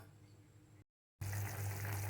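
Water splashes and gushes steadily into a pot of elephant foot yam curry after a brief gap, a close, continuous pouring sound.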